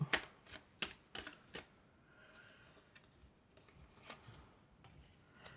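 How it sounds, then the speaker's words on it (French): Tarot cards shuffled close up: a quick series of crisp riffling bursts, then softer scattered card flicks and slides, quiet with no talk. "On va voir si on a d'autres cartes."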